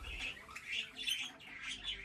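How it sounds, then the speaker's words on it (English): Colourful cage birds in a large aviary at a small zoo, squawking in quick repeated bursts, fairly faint and close, with no talk. "So what you can see is just the birds in our biggest cage."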